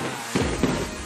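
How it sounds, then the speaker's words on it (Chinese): New Year fireworks go off in two quick, booming bursts less than a second apart, with a dense rumbling tail between them. "我们一起看烟花吧，要过年了"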